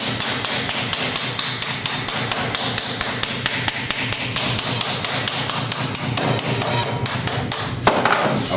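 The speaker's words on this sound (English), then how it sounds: "Now I'll take my hammer." Hammer strikes sheet metal steadily while a Pittsburgh joint is formed, sharp close metallic taps repeating in a quick even rhythm over a loud ringing workshop background.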